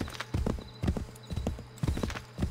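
Horse hooves clip-clop at a steady walking rhythm in the Assassin's Creed 3 video game, close and clear, with no talk over them.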